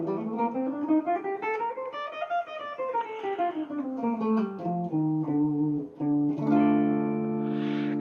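Guitar plays a Phrygian mode figure: single notes climb and descend the scale, then land on a sustained ringing chord, clean and close with no talking.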